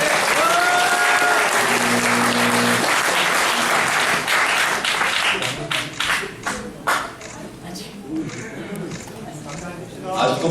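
An audience claps at a debate forum held on the 20th floor of the Korea Press Center, dense applause under a speaking voice that thins into scattered, fading claps.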